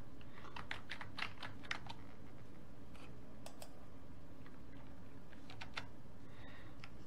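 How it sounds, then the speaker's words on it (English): Keystrokes on a computer keyboard while entering a network command during a networking lab, quiet irregular clicks in short bursts over a low steady hum, with no talk. "I'm going to type in"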